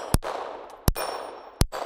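Three sharp, loud pistol shots from a Smith & Wesson Victory, evenly spaced about three quarters of a second apart, each a crisp crack with a short ringing tail and no talking.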